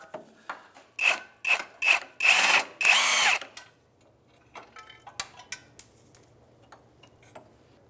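A wrench works a 13 mm exhaust bolt under a 2003-2011 Honda Element during a catalytic converter replacement, giving a run of loud, rasping ratchet bursts that end after about three seconds, then quieter scraping and tapping.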